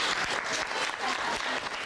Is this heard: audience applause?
yes